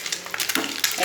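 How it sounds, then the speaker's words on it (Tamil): Eggs frying in a pan for egg thokku, a close, continuous crackling sizzle with bursts of spattering. "பாருங்கள் நல்லா பொரிஞ்சுட்டு எப்படி இருக்குது பாருங்கள்."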